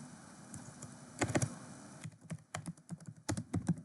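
Typing on a computer keyboard while writing Python code: soft, close clicks of keys in irregular bursts and short clusters, quiet, with no talk.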